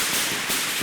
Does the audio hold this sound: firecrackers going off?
yes